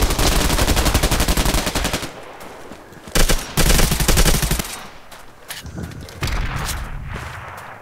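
Rapid automatic gunfire from the online shooter Bullet Run, a dense rattling burst that stops, then loud single and clustered shots and further bursts at close range, with no talk.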